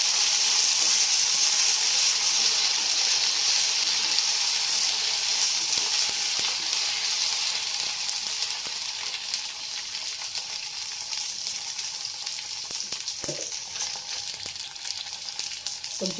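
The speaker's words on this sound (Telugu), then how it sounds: "అల్లం వెల్లుల్లి పేస్ట్ వేసాను" Ginger garlic paste frying in hot oil for a potato and egg curry, a steady loud sizzle that eases slightly midway, with occasional stirring clicks.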